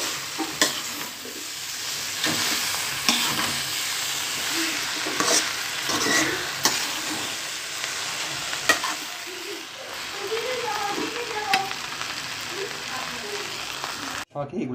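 Thai chicken fried rice, cooked restaurant style, is stir-fried in a pan with steady sizzling and repeated scraping, tossing strokes of the spatula close by. A voice comes through faintly at times.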